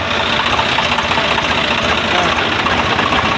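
A Swaraj tractor engine, which has a clutch vibration problem, runs at a loud, close, steady idle with a rough knocking throb, and voices talk over it.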